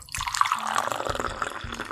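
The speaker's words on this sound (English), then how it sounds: "It's pouring coffee." Liquid pours and splashes steadily, a bright trickling wash with small drips, consistent with coffee being poured into a cup.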